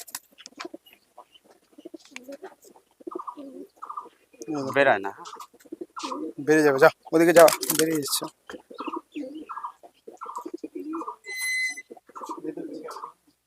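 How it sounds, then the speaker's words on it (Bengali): Andhra pigeons, just released inside a room, coo in low, throaty bursts scattered across the stretch while people talk nearby in short, broken phrases. "ভিতরে ছেড়ে দেখি পায়রাগুলো"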